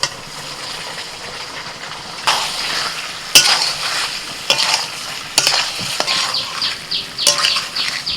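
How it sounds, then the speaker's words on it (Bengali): Vegetables sautéed with spices in a pan, a close sizzle punctuated by repeated sharp scraping and stirring clatters of a spatula against the pan, irregular and fairly loud, with no talk. "মিনিট তিন চারেক সময় নিয়ে আমি মশলার সাথে সবজিটাকে একটু কষিয়ে নিচ্ছি"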